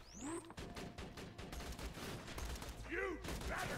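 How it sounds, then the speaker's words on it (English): Rapid bursts of gunfire from a Borderlands 2 firefight on PC run nearly nonstop and loud, layered with dense battle noise and effects throughout. "Someone else shooting me?"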